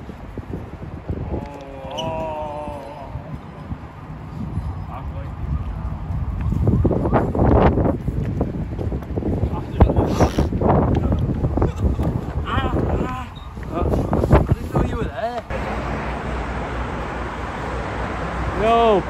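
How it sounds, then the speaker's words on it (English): Wind gusting outdoors in a city street in Budapest, a steady rushing buffet on the microphone that persists throughout, under intermittent nearby conversation and passing voices. "It's a bit windy for the drone, really, isn't it?"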